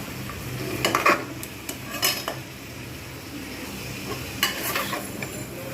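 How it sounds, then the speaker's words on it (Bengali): Mutton curry with potatoes is sautéed in a pan under a low sizzle. A spatula scrapes and clinks against the metal in a few short bursts of stirring, with no talking. "এরকমভাবে আমি দু তিন মিনিট ধরে আমি কিন্তু এটাকে আমি কষে নিলাম"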